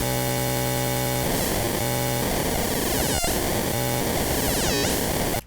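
A Serum 2 synth oscillator with linear FM warp and the second oscillator raised an octave produces a harsh, broken, noisy tone that sweeps and warbles continuously, loud and alone, with a sharp glitch partway through.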